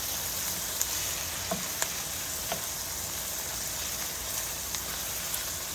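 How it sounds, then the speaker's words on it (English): Parsley, basil and red pepper seed are mixed into vegetables softening in a sizzling pan for seafood pasta, a soft, even crackle with a few faint ticks and no voices. "I'm going to give that a good mix"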